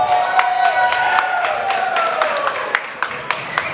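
Crowd at a wrestling arena cheering and clapping after a high-risk dive into the front row, a steady roar with scattered sharp claps, while a commentator talks over it.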